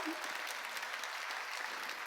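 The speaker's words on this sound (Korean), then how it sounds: "박수로 하나님께" A church congregation at a Korean summer mountain revival meeting breaks into steady, dense applause that fills the whole stretch without pause, loud and close.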